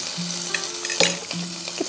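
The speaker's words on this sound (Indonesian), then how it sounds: "Kita tumis." Garlic sautéing in a pan of hot oil and butter makes a steady close sizzle, marked by a few sharp stirring knocks and scrapes, heard alone without talk.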